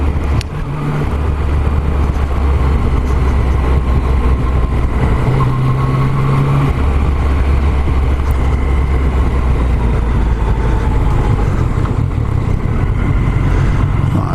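A Yamaha MT-09 SP motorcycle engine revs and pulls hard on the road, a loud close drone that rises in pitch, steps between gears and keeps going with wind rush around it.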